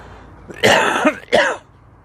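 Two harsh, close coughs in quick succession, loud and abrupt, with near silence around them.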